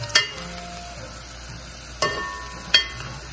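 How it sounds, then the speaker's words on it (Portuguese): Garlic sautéing in a pan for rice, a quiet steady sizzle with three sharp clinks of a utensil stirring against the pan. "já coloquei o alho. Pra refogar."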